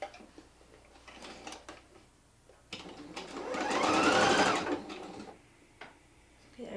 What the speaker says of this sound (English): We'll take that to the sewing machine.